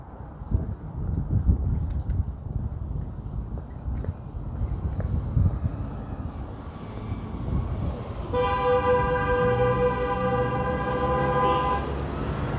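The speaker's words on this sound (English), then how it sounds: "There's still honking going on." A long, steady horn blast rings out loud and close in New York, near the Walkway over the Hudson at Poughkeepsie, sounding continuously over several seconds above a rumbling outdoor background.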